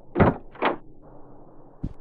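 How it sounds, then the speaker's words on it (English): A door is pushed shut with two solid thuds close together, then a brief quieter rumble and a final short knock, near and fairly loud with no speech. "Close the door."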